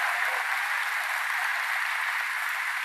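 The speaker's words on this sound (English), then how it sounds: "Let's give them another round of applause for their leadership." An audience at a gun violence speech gives a round of applause for officials, an even, continuous sheet of clapping heard at a slight distance with no voices over it.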